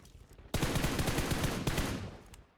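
Automatic gunfire from an MG3 or similar weapon in PUBG Mobile, a loud sustained burst of rapid shots lasting about two seconds and tailing off, with no talk over it.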